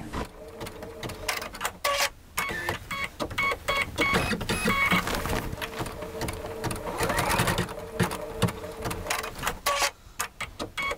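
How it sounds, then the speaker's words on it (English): A computerized sewing machine stitches marks along a fabric border and trims its threads, producing a rapid mechanical whirring chatter with brief pauses and motor shifts, loud and close. "It's going to stitch each one and then clip the threads."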